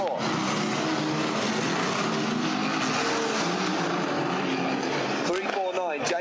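Race cars restart under the green flag in a consolation race, a dense continuous engine roar filling the whole stretch with a rising engine whine near the end, loud and close.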